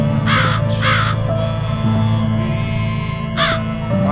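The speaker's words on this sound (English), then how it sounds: "Why is there a crow here?" A crow caws three times in The Cat Lady video game, two quick calls close together and a third a few seconds later, each loud over a steady low musical drone.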